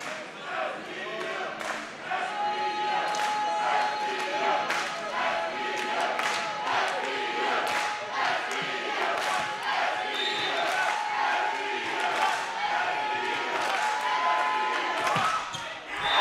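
A volleyball crowd at a men's college match, SVU Knights against Randolph-Macon College, makes a steady, dense roar of noise and voices. Sharp thuds from the ball and court break through it, and commentary runs over the top.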